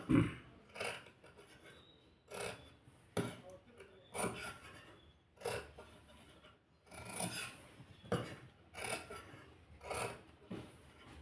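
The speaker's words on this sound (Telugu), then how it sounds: "సులువైన పద్ధతిలో కటింగ్ నేను చూపిస్తున్నాను" Scissors cut through cut-work blouse fabric at a tailoring table, making crisp, rasping snips in a steady rhythm of roughly one per second, close and fairly clear with no talk over them.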